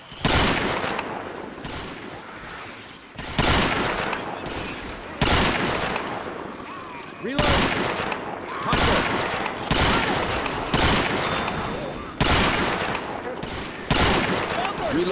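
Repeated gunfire in the video game Left 4 Dead 2, loud bursts of shots arriving in rapid volleys roughly every second or two across the whole stretch, with no talking heard.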